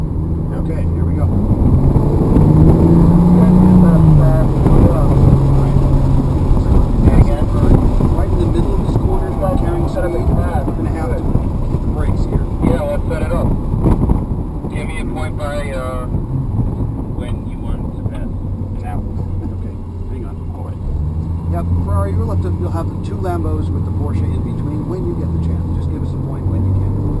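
A Porsche 911 Turbo engine runs steadily from inside the car on a track, a loud continuous drone with shifting pitch and wind noise, while a voice talks over it.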